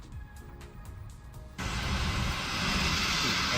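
Jet airliner engines in a flight simulator game, a quiet hum with faint clicks at first, then a sudden jump into a loud, steady roar that keeps building toward the end.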